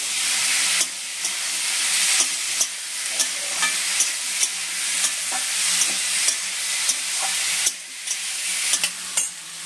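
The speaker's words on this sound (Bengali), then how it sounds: "এবার ভালো করে একটুখানি কষে দেবো।" Tomatoes and ground spices sauté in a pan with a constant bright hiss of frying, and regular spatula scrapes come roughly every half second to a second. Nobody talks.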